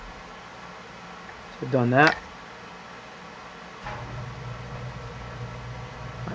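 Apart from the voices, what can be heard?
home furnace running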